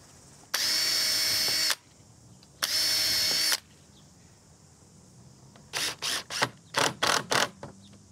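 A cordless power drill drives two screws into the end joint of a wooden gate. Two sustained, loud whirring runs of about a second each are followed by a string of short, sharp trigger bursts, all close by.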